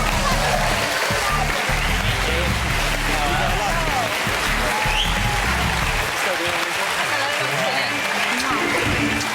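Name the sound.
studio audience applause for Jordan and Peter Andre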